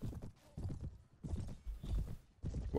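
Horse hooves in the Warband Perisno mod video game, a quick rhythmic clip-clop of a galloping horse in close bursts, with a whinny, fairly quiet.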